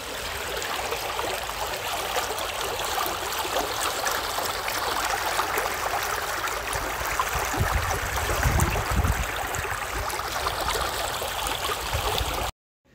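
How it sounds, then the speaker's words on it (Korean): Water of the Ansan stream flows steadily and loudly, a continuous close rushing babble with no voices, ending abruptly near the end. "안산천을 걷고 있다가 물소리를 녹음하려고 합니다."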